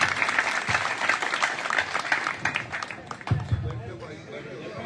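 A village crowd applauds loudly to welcome a speaker at a rural gathering, with dense sustained clapping across the whole stretch and some voices mixed in.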